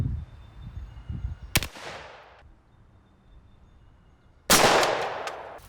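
Two sharp gunshots fired down into a floor guard on a range, one at about 1.5 s and a louder one near 4.5 s, each a loud crack followed by a long decaying ring, with quiet background between.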